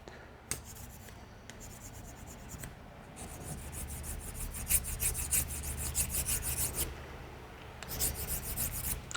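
Steel edge rubbed on an 800 grit sharpening stone to remove a burr, giving soft, close rasping strokes in repeated passes, faint at first and growing steadier and denser toward the end, with no talk.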